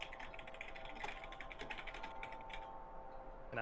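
Quiet clattering keystrokes on a computer keyboard, a busy run of clicks that thins out and stops near the end, heard close over a low background hum.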